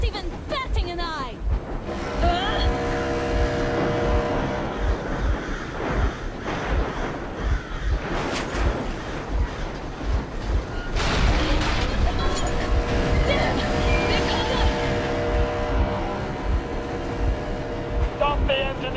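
A vehicle engine in the video game Metro Exodus, running as a steady, loud low rumble through the whole stretch, mixed with heavy booming game effects and a voice talking over it.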